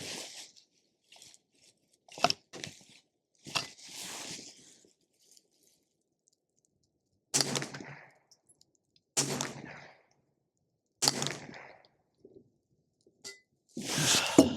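Suppressed rifle shots from a 22-inch precision chassis rifle with an MDT SCS-Lite stock, several sharp isolated reports spaced seconds apart, each a brief broadband crack with a short tail, separated by quiet gaps and faint handling clicks.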